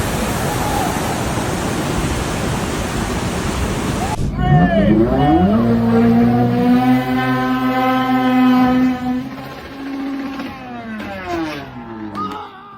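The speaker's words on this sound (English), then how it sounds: "The world's first jet boat loop" A loud, steady roar of a jet boat engine and rushing water at a waterfall in Oregon for several seconds, then it cuts off abruptly and sustained musical tones take over.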